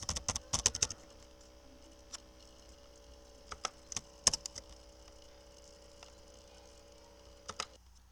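Keys clatter on a computer keyboard while working in R statistical software, a quick burst of clicks at the start followed by sparse single taps and pairs over a faint steady hum, with no voices.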